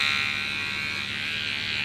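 A Veet electric trimmer buzzes steadily and loudly at close range, a continuous motor drone that holds level without a break.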